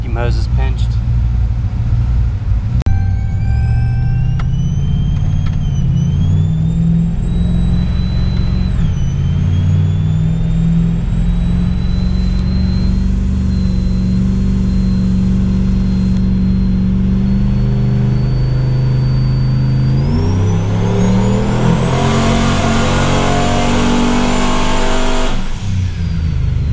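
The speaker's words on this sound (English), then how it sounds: "getting ready to start making some full throttle runs" A turbocharged rear-wheel-drive Chevrolet Trailblazer SS engine on a dyno, revving steadily with rising and falling tones, then climbing hard near the end at full throttle, loud and continuous.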